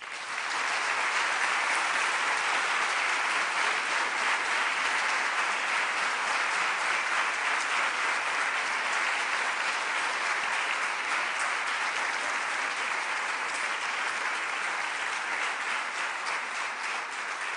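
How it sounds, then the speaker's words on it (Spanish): Sustained applause from an audience at an equality awards gala paying homage, a dense, even wash of clapping that holds steady for the whole stretch with no voices over it. "les pido un aplauso en forma de homenaje para todas ellas"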